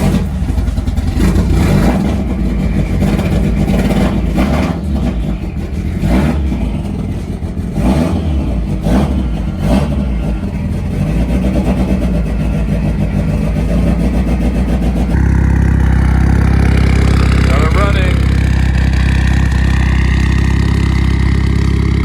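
A Mitsubishi Evo 9 engine runs continuously, rising and falling through several throaty revs before settling into a rough, steady idle, loud and close throughout with no voices.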